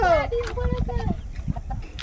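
A hen gives a few quick, close clucks and squawks in a short burst after laying an egg, with some background noise around it.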